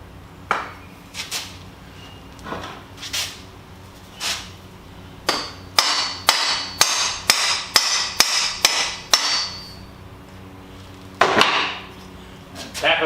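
Parts of a Chamberlain garage door opener being tapped into position with a hammer: a loose run of sharp metallic taps, then a quick, steady series of close, crisp strikes, and a final cluster of knocks.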